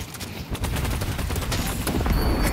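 Dense rapid gunfire rattles continuously in the video game Deadlock, loud and close, with overlapping shots filling the whole moment.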